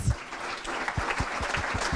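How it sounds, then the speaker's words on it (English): A forum audience applauds two female leaders at a sustainability event opening, a dense, even patter of many hands clapping with soft low thumps underneath. "please give a round of applause to 2 female leaders"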